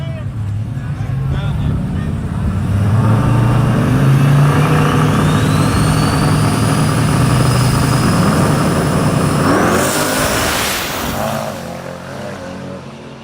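A turbocharged drag race car accelerating hard down the track, a loud sustained engine roar with a rising turbo whine climbing in pitch, then a sharp shift and fade as it pulls away, with people talking over it.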